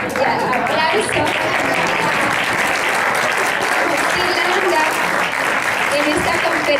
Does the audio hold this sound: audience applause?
yes